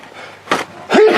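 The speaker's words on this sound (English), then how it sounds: "You see now what happens when I sneeze?" A single person's sneeze, close and loud, with a short sharp burst followed by a louder voiced blast at the end.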